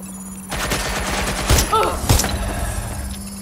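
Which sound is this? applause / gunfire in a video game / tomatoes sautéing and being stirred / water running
gunfire in a video game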